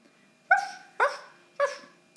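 Dog barking three times in quick succession, short sharp yelping barks, fairly close and clear against near silence.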